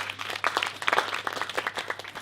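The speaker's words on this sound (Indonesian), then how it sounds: "Boleh minta tepuk tangannya semua?" An audience at a student discussion forum gives a burst of applause, dense overlapping claps close by that hold steady and then taper slightly.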